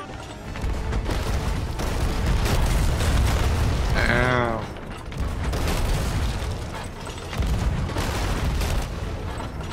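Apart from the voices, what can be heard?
ship cannon firing in Sea of Thieves video game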